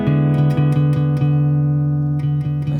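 A guitar sounds a diminished chord shape and lets it ring as a steady sustained tone, with a few light pick or string attacks along the way, played alone with no voice.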